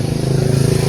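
A Honda Scoopy motorcycle engine that won't start turns over in a steady, close, pulsing drone, loud and alone without any talk.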